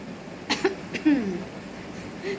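A person with a cough hacks a few times at close range, sharp short bursts with a throaty voiced catch, against a quiet room.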